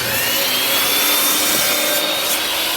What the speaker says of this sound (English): So I come over to my miter saw.